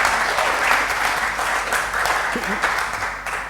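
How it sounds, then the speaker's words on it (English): Applause from a crowd at an entrepreneur social event in Bali, steady and fairly loud for several seconds with a continuous patter of clapping. "let's give Rick a round of applause"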